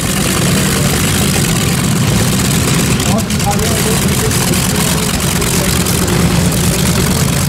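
A tractor engine, under renovation, idles at close range with a steady, loud, continuous low rumble and even throb that holds for the whole stretch without any change in pace.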